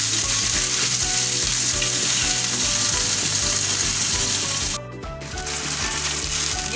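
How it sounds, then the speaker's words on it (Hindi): Chicken frying hard in oil over a high flame for dhaba-style chicken karahi, a loud, dense, steady sizzle with rhythmic scraping and clanking of a utensil against the pan, briefly dipping in level before resuming. "हाई फ्लेम में हम इसको अच्छी तरह से भूनेंगे।"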